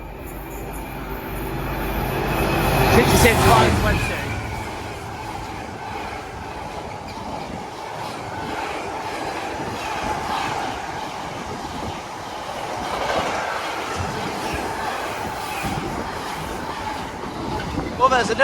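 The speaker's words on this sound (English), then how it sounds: "we're going to have a freight train coming down running from Trafford Park to London Gateway" A diverted freight train running from Trafford Park to London Gateway rumbles past close by in Northampton, building to a loud roar, then rolling on with steady wheel clatter and wind noise while someone talks.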